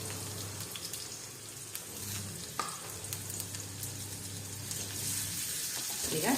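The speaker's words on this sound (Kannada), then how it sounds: "ಈಗ ಈರುಳ್ಳಿ ಹಾಕ್ಕೊಳ್ತಾ ಇದ್ದೀನಿ" Chopped onion sizzles steadily in hot oil in a pan for corn dosa, a continuous close crackling hiss with faint stirring and a low background hum, building slightly louder toward the end.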